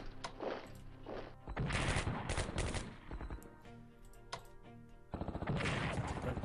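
Bursts of combat gunfire from an attack in the World War II strategy game Strategic Command: World at War, two loud rapid volleys separated by quieter clatter, with no talking.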